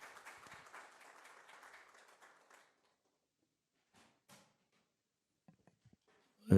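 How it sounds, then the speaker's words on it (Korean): Audience applause welcoming a university professor to the lecture stage, a broad wash of clapping for about two and a half seconds that fades out, followed by near silence with a few faint taps and a sudden loud bump at the very end. "큰 박수로 모시겠습니다"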